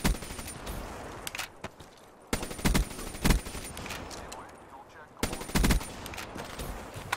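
Havoc gun firing in the video game Black Ops 3, several sharp automatic bursts spaced a few seconds apart, loud and close with quieter game sounds between.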